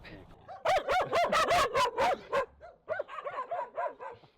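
Dogs at a Hungarian horse stable bark in a rapid, loud volley, pausing briefly before a second string of barks, with voices mixed in.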